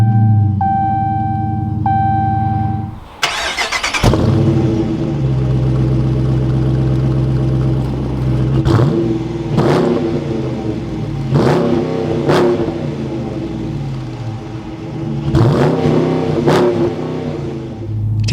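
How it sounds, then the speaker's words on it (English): A 2022 Dodge Challenger R/T Plus V8 fires up with a loud starter crank and roar after a brief electronic chime, then settles into a deep idle broken by several sharp, close throttle blips and revs. "And then now inside the RT, keeping my foot on the brake, we can go ahead and fire it up."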